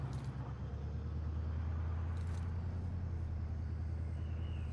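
A patrol vehicle drives in Call of Duty Modern Warfare, its engine a steady low rumble that drones evenly throughout, with a couple of brief hissy bursts layered on top and no voices.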